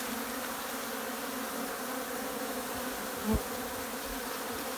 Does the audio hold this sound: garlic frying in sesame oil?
no